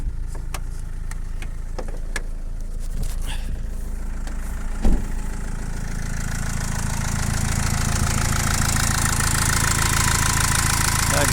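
A Fiat Ducato 3.0 diesel van engine, just refitted with a new timing belt, cranks and catches, then settles into a loud steady idle with a rough mechanical clatter, close by.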